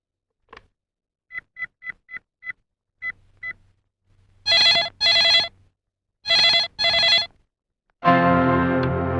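A telephone dials out in a quick run of short beeps, then rings in two loud double bursts separated by a pause, before a sustained louder tone takes over. No one speaks.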